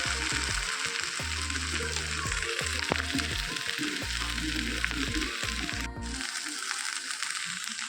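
Okra (vendakkai) frying in a pan, a continuous bright sizzle held at a steady level, with a beat of background music thumping underneath and no voices.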